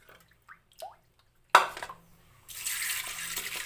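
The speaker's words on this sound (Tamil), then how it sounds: "இந்த மாதிரி தண்ணியில் நல்லா அலசிக்கணும்." Vegetable pieces being rinsed in water in a kitchen, a few faint drips and handling sounds at first, then a sharp splash followed by a steady rush of running water.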